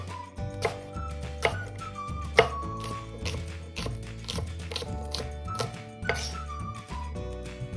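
A knife chops an apple into small bite-sized pieces on a cutting board, giving a series of sharp, irregular thunks close by. Light music plays underneath.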